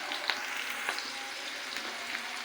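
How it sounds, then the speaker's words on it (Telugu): Green and dried chillies fry with gongura in hot oil, giving a soft, continuous sizzle with small crackling pops, quiet and close with no talking. "చూస్తున్నారు కదా, వేగుతున్నాయి."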